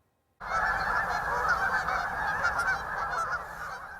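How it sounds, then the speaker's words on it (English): A flock of geese honking during spring migration, a dense, continuous chorus of overlapping calls that starts abruptly and holds loud and steady throughout. "Millions of geese, sandpipers, and ducks all flying back north this spring."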